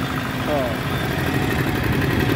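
A tractor engine running steadily at a rumbling idle, close and loud, with a continuous low throb that holds through the short moment without a clear rev.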